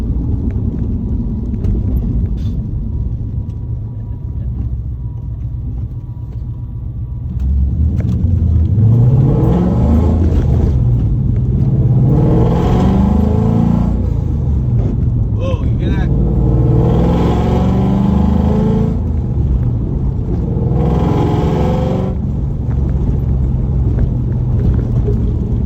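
A Coyote V8-swapped Ford Mustang Fox body is heard from inside while driving, with a deep, steady engine rumble that surges louder as the revs climb and then keeps droning under occasional talk.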